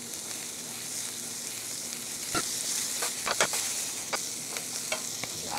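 Onion, cabbage and bacon stir-fry for bacon fried rice, a steady hiss of sizzling in the pan broken by scattered clinks and scrapes of a utensil stirring.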